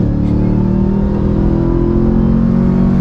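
A loud, close 2022 Chevy Silverado ZR2 pickup engine drones with a deep, steady rumble and slight rising pitch as it revs, with no voices.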